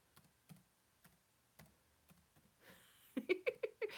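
Fingers typing a comment on a computer keyboard: sparse soft key taps at first, then a quick cluster of sharper, louder clicks near the end, close and otherwise quiet.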